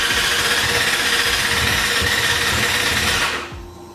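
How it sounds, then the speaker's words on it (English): A 2017 Yamaha R6 motorcycle engine cranks from cold with a steady, loud whirring buzz that holds evenly for several seconds, then drops away abruptly near the end, with no talking. "I'm gonna just press and hold on the start button"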